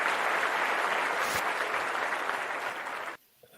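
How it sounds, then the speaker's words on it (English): Audience applause breaks out for a guest on a sports talk show, dense and steady clapping for about three seconds before cutting off abruptly. "Let me give him some applause."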